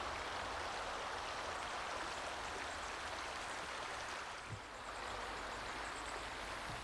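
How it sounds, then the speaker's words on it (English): A river flowing beside a hiking trail in the White Mountains, a steady broadband rush of water that holds evenly throughout with no voices. "I always love it when a trail follows a river."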